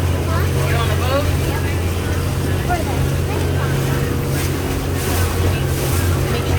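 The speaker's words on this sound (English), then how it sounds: "You on a boat, Maddie?" Steady engine drone and rushing water from a boat under way at night between Disney Springs, French Quarter and Riverside, with wind buffeting the microphone throughout.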